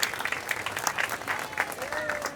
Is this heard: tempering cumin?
no